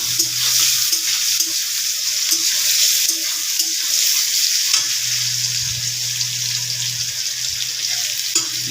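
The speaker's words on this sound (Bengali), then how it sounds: "এই যে বন্ধুরা জিরে ফোড়ন দিলাম, পেঁয়াজ দিয়ে দিলাম" Cumin seeds and chopped onion sizzle and fry in hot oil in a pan, a steady close crackling hiss with occasional stirring scrapes, continuous and loud with no talking.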